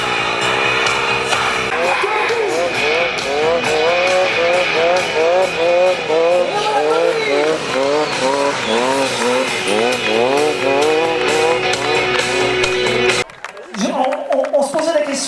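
A small Triumph motorcycle braking hard on its second pass at a motor show in Monistrol-sur-Loire, engine loud and close as it revs and drops in repeated rising-falling sweeps before cutting off near the end, with talk and crowd noise beneath.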